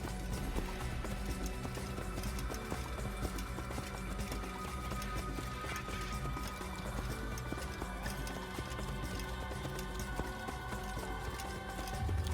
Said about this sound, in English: Trotting along, no big deal.